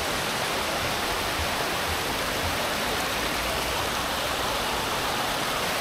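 A waterfall in Ella, Sri Lanka, with people bathing and playing in it, roars as a loud, steady broadband rush of falling water, continuous and unbroken throughout.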